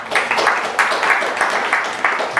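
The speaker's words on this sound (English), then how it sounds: "Everyone give it up for Manya." A conference audience applauds a speaker introduced for a talk on modular GPU programming, a steady patter of many hands clapping at close range that holds at an even level from start to finish.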